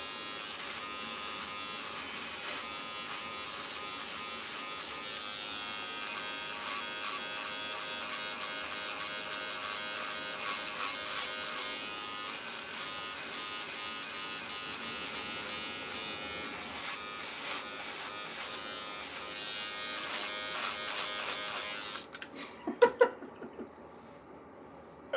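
An electric trimmer shaves off a mustache, a close, steady buzzing hum running for over twenty seconds, then it cuts out, followed by a few soft handling knocks.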